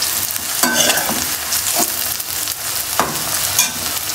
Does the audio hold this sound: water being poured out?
no